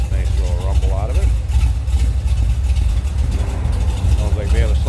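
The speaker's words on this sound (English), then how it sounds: "Remember, 454 big block power underneath the hood. Nice little rumble out of it." A 1966 Chevrolet Chevelle two-door hardtop with a 454 big block V8 and a slight cam runs steadily, a loud, close, deep rumble throughout, with a voice briefly over it.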